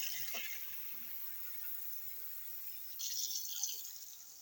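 Hot water is poured into a cooking pot of Jamaican cow foot for rice and peas, a soft steady hiss and trickle that swells briefly louder near the end, with no talking.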